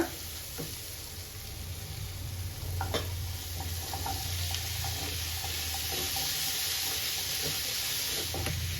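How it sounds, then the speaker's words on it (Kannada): Cooked chickpeas go into a simmering masala gravy for kabul kadle gojju, producing a steady wet sizzle with scattered soft clicks and stirring scrapes close at hand and no voices. "ಸೊ ಇವಾಗ ಇದಕ್ಕೆ ಕಾಳು ಸೇರಿಸ್ಕೊಳ್ಳೋಣ"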